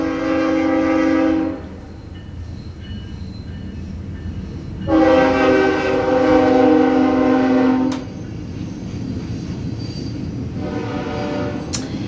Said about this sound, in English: The train's coming, so I'm going to wait.